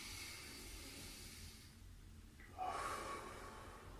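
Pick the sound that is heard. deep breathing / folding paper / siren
deep breathing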